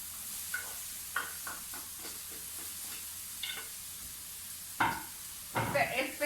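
Onion sautés in a heated cooking pot, a quiet, steady sizzle with intermittent scraping stirs and clinks of a utensil, growing busier toward the end, close-up and fairly soft.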